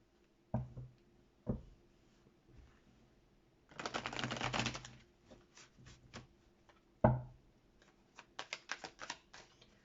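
A deck of cards being shuffled gives a dense riffling burst in the middle, surrounded by sharp isolated card taps and snaps and a rapid run of light clicks near the end, close and quiet with no talking.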